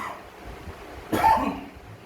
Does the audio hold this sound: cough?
yes